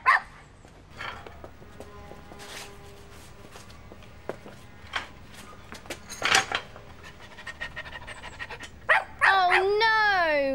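A cartoon dog barks, yips and whimpers in short excited bursts between bouncy music and sound effects, loud and close, with a rising whistle-like tone at the end.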